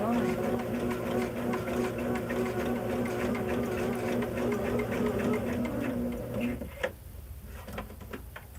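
A sewing machine runs steadily while stitching along a marked line on fabric, a close, even mechanical drone that stops near the end, followed by a few light clicks and handling noises.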